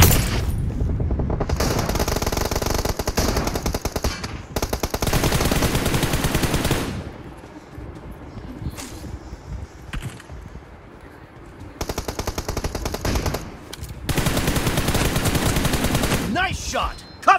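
Automatic weapons fire in the PUBG video game: loud, long bursts of rapid gunshots separated by short quieter gaps, with one brief pop at the end.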